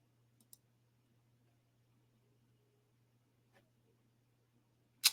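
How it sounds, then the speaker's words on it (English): A computer mouse clicking on a search button, two faint quick clicks early on, a soft tick midway, then a sharp louder click at the end over a quiet low hum. "I'm going to click revise search."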